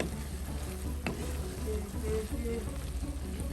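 Cilantro being stirred into a sizzling pan of Kenyan-style food, a continuous moderate frying hiss with faint scraping, fairly close and steady.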